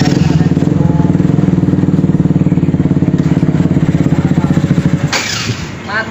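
A modified Honda CB motorcycle with a DOHC Satria FU150 cylinder head runs loud and close in a steady, throbbing idle, then falters and dies near the end.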